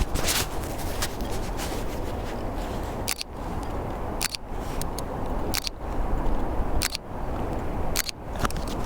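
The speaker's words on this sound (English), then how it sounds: "the shutter sound on this camera sounds really cool" Fujifilm X-Pro2 mirrorless camera shutter firing several times, sharp crisp clicks spaced about a second apart over a steady background hiss, close and fairly loud.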